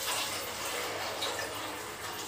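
Water is poured into a pot of soaked chana dal before pressure cooking. It makes a soft, continuous splashing rush for a couple of seconds, fairly quiet and without talk.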